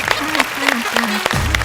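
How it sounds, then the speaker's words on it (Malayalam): Audience applause on a Malayalam TV comedy show stage, steady clapping filling the clip beneath a voice that speaks over it. "നല്ലൊരു കൈയടി"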